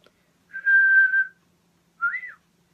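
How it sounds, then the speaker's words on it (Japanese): A person whistles two short tones: a held, steady note of under a second, a pause, then a brief rising-and-falling note, clear and close in a quiet room. "じゃあシンキングタイムの口笛。"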